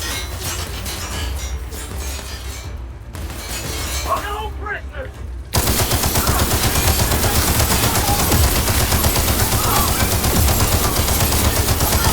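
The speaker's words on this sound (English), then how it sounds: "Now we can just keep on shooting." Rapid gunfire in The Outer Worlds, first in bursts and then as a loud sustained stream of automatic shots, with a player talking over parts of it.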